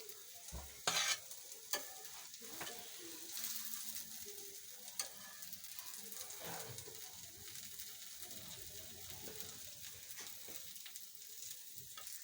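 Omelette sandwich toasting in a little oil on a pan, a soft, steady sizzle with a few sharp clatters early on, fairly quiet and without speech.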